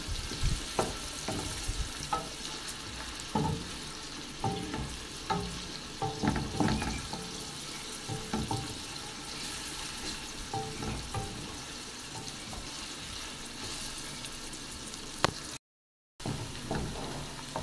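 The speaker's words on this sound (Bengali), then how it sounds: "এখন এগুলো সব ভালো করে ভেজে নেব।" Onions fry in a pan for chicken biryani, a steady close sizzle broken by irregular scraping and stirring strokes. A short silent gap comes near the end.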